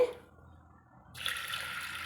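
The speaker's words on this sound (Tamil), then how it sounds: "கொஞ்சமாக தண்ணி சேர்த்துக்கலாங்க" Water poured into a pressure cooker holding lentils, a short tap-like gush that fades and then returns as a brighter, steady rush.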